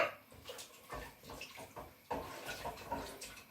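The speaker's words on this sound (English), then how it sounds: "So I'm just putting this much water into my can. Rinse that out." Water pours and splashes into a can being rinsed out while cooking a chicken and chickpea tagine, with a few short gushing bursts and sloshes, close and moderately loud.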